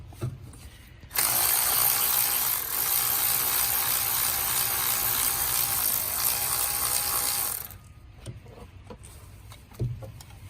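A ratchet loosens bolts on a Honda engine, a dense, rapid clicking burst lasting several seconds, close and loud, followed by quieter handling sounds and a single knock.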